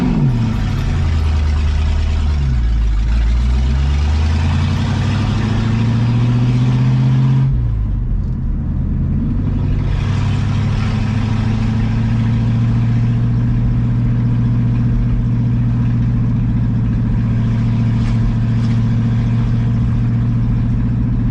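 A 1966 Ford Mustang pulls away in second gear, its rowdy exhaust rumbling loud and close, bogging briefly before settling into a steady, droning engine tone with no voices.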